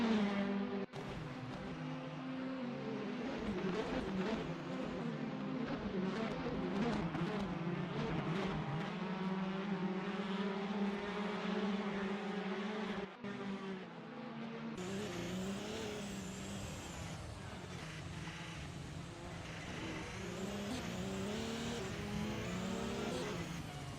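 LMP3 prototype race cars in a racing game at a night event in Bahrain scream loudly and continuously, engine tones climbing and dropping through gear changes, with a brighter, harsher roar taking over in the second half.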